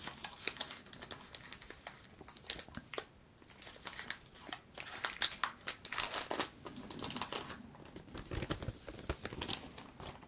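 Wrapper of a Zenith Supreme trading card booster pack being torn and crinkled open, a close series of irregular crackling rips and rustles with no talking.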